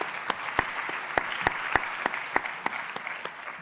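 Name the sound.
round of applause for the panelists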